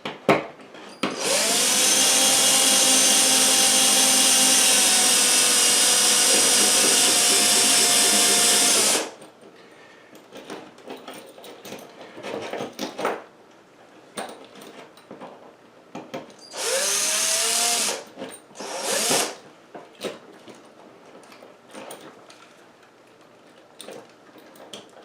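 A cordless power drill drives toggle bolts into drywall to mount a toilet paper holder: one long whining run that slows at the end, then quiet handling, two shorter bursts and faint clicks, close and loud.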